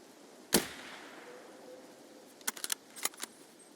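A single gunshot from the shooter game Escape from Tarkov, one sharp loud crack followed by a decaying tail, then a few quicker clicking or rattling sounds of weapon handling.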